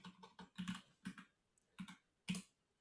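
Several bursts of keystrokes on a computer keyboard, clicking close and clear in uneven groups with short pauses between them.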